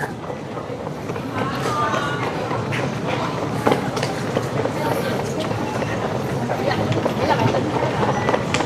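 A rumbling Taiwan MRT metro train runs steadily with rattling, clacking wheels and hum, while people talk over the noise.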